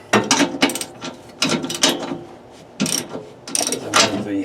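Ratchet cranking down the slide-out mechanism on a Bounder by Fleetwood motorhome with a Hydra-Slide RV system, close loud bursts of rapid metallic clicking in several separate strokes with short pauses between.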